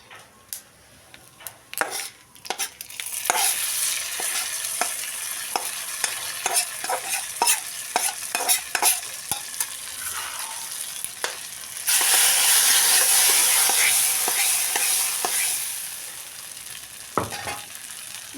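Roasted grated coconut is tipped into a hot pan for erissery and stirred, giving a steady close sizzle and frying hiss with repeated sharp scrapes and taps of a spoon against the pan.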